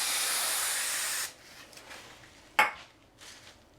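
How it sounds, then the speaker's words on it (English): A 1kg fire extinguisher squirting a loud, steady hiss of spray for just over a second, then cutting off, followed by faint rustles and a sharp clink. "squeeze that all up, and then squirt it for 3 seconds"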